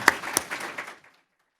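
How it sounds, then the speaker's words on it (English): A brief burst of audience clapping at a comics forum event, a few quick claps that fade out within about a second and leave silence. "please join me in a round of applause for James Curtis"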